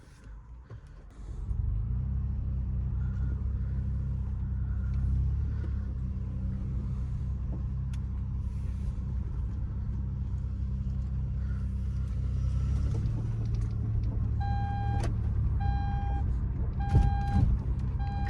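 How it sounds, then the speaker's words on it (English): A car with a misfiring engine is driven along, giving a continuous low, uneven rumble close by for the whole stretch. Short repeated electronic beeps chime near the end. "the misfire is very noticeable when you drive it"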